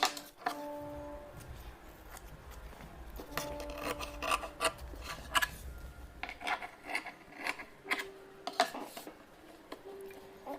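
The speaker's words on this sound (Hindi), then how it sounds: "और एक्स्ट्रा कपड़ा कट कर देंगे" Scissors cut away extra fabric on a pin-tuck kurti, giving a quiet, close series of irregular snips and soft cloth rustling.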